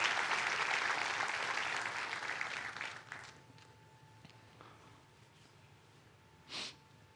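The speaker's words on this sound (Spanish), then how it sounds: "Dele un fuerte aplauso" Strong applause from a church congregation fades out over about three seconds, leaving a quiet room with a soft hum and a brief breathy noise near the end.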